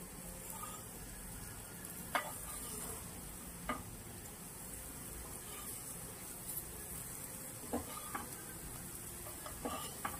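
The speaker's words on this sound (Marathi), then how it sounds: "आणि हे परतून घ्यायचं आणि परत त्याला मागे तेल घालायचं" Brinjal slices sauté in oil with a quiet, continuous sizzle, punctuated by a handful of sharp clinks and scrapes from turning them in the pan; no voices.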